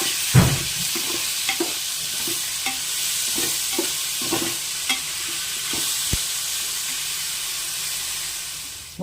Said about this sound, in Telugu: ముందుగా ఉల్లిపాయలు వేస్తున్నానండి.